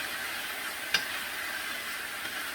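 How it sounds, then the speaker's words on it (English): Garlic sautés in a pan with a soft, steady sizzle and a faint hiss, plus one brief clink of a utensil early on. "Okay, let's saute this"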